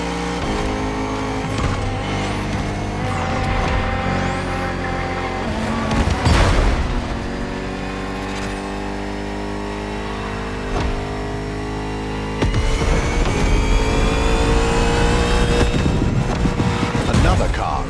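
Bugatti Vision GT engine in The Crew Motorfest, a loud, steady high-pitched whine that swells and surges through gear changes, with an announcer talking over it.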